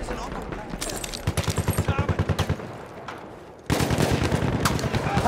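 Rapid bursts of machine gun fire in the World War I shooter Battlefield 1, a rhythmic stuttering volley mid-clip between other battle noise, followed by a louder burst of combat sound.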